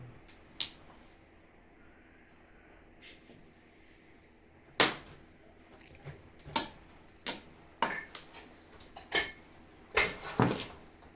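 Dishes and plates clatter at a table during a mahjong gathering, with sharp, close ceramic clinks and knocks that come irregularly and grow busier in the second half over a quiet background.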